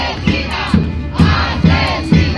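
Peruvian protesters booing and chanting against the government, a loud massed roar broken by shouted bursts that repeat in a steady rhythm about twice a second.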